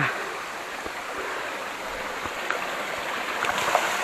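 Kallattigiri Falls near Kemmannugundi pours down in a steady, loud roar of rushing water, close by and with no voices over it.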